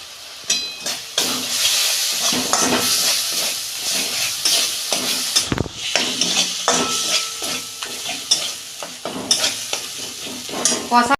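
Kashmiri chillies frying in hot oil while vegetables are being cooked down for a Bengali fish curry, a loud close sizzle with continuous scraping stirs against the pan for several seconds, no voices.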